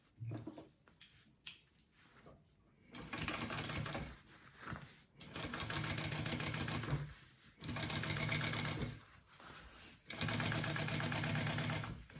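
A sewing machine runs in several bursts while top stitching a bag lining, loud rapid whirring with short pauses and quiet handling noises between runs.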